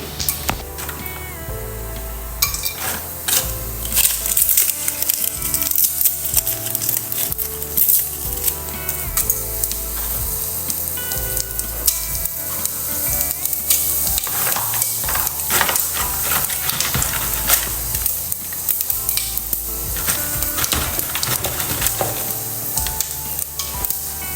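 Whole spices such as cinnamon, cloves, cardamom and star anise sizzle and fry in hot ghee inside a cooker, a continuous crackling hiss with stirring scrapes, close and fairly loud, no talking.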